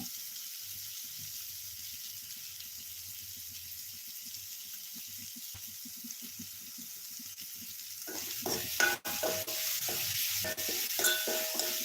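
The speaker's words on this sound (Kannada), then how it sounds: "ಈರುಳ್ಳಿಗೆ ಚೆನ್ನಾಗಿ ಫ್ರೈ ಮಾಡ್ಕೊಳ್ಳೋಣ" Tomato and onion for a dry fish gravy are stirred and fried in a pan, a faint low sizzle with soft scraping that turns louder and busier near the end with clattering stirs, no voices.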